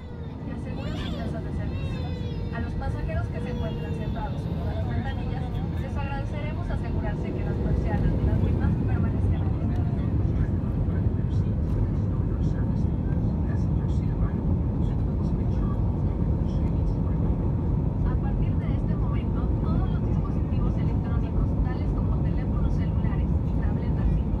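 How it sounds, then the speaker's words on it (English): An Interjet Airbus A320 on its takeoff roll from runway 12 left, heard from inside the cabin: a steady, loud engine roar and rumble that builds partway through and holds, with a murmur of voices beneath it. "the landing aircraft crossed the threshold on 12 left, and we proceeded our takeoff roll"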